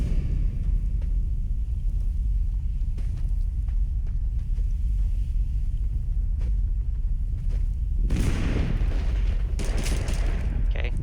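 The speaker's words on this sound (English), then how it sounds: "It's the invisible gun." An invisible gun fires in the video game TABG, heavy booming blasts and rumble over a constant low roar, ending in a louder, brighter burst of shots near the end.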